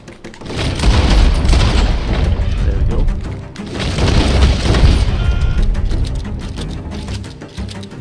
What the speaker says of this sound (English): I like to waste my explosive ammo in this case.